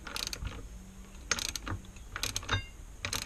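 A ratchet wrench tightens the bolts of a motorcycle brake caliper during a brake pad change, giving several short bursts of quick metallic clicks close up, separated by brief pauses, with no talk.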